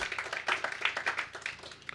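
Scattered hand clapping from a small group of people gathered for a prison education and vocational programme, uneven and fairly faint, with a few claps standing out.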